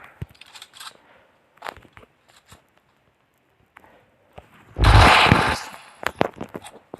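Gameplay from the shooter Free Fire carries a loud burst of shotgun fire that lands mid-clip and rings out for a moment. Sharp clicks come before it and quick follow-up shots come after.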